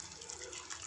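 Water poured into a simmering dahi aloo curry of potatoes in yogurt gravy, a faint brief splashing gush under quiet kitchen noise.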